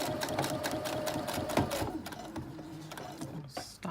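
A sewing machine stitches a seam in a rapid, steady mechanical chatter of needle strokes, close and moderately loud, slowing slightly near the end.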